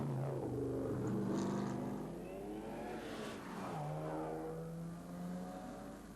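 A vintage rally car pulls away at the 1997 Tour Auto, its engine revving up through rising gears, fading, then climbing again, loud and close with no talk.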